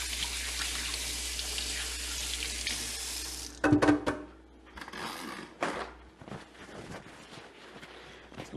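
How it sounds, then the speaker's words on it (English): Hands are rinsed under a running kitchen tap, a steady close rush of water that breaks into splashing and uneven spatters as the hands move through the stream, with no talk. "I'm going to give my hands one more rinse."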